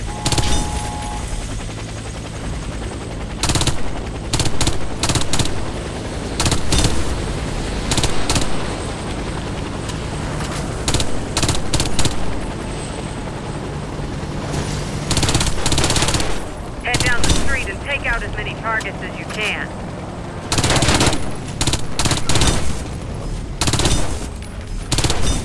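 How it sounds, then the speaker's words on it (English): Submachine gun firing in Warface engineer training, repeated loud bursts of rapid automatic fire separated by brief pauses, close and sharp, with a faint background drone between volleys. "As an engineer, your primary weapon is a submachine gun."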